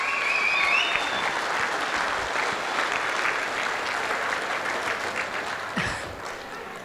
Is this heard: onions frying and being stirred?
no